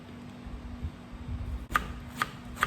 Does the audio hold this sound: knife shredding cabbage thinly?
yes